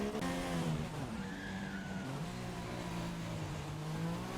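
In the F1 2016 video game at Monaco, an F1 car's tyres lock up under braking, a sustained skidding squeal over a droning, shifting V6 engine tone, heard fairly faintly.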